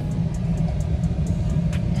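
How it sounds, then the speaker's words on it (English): A car edging through stalled traffic on a storm-damaged road after a hurricane, heard as a steady, close engine rumble with faint ticking above it throughout. "there's a car trying to come through"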